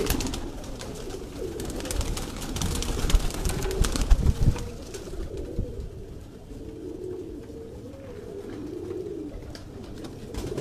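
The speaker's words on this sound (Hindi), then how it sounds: "ये उनासी वाले ही कबूतर हैं" Pigeons coo steadily in low, throaty bursts, several birds close by, with scattered chirps and rustling around them.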